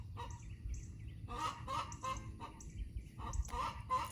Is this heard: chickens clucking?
yes